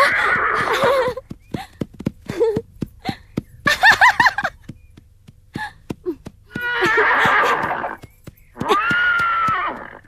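Several horse whinnies and neighs ring out, loud and close, between clip-clop hooves and short snorting sounds, with quiet gaps in between.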